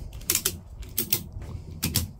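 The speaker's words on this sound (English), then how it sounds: "just take your ratchet there and start ratcheting it up nice and tight here" A ratchet strap being cranked tight with its ratchet handle, giving three close bursts of clicking, rasping mechanism noise spaced about a second apart with quieter creaks between.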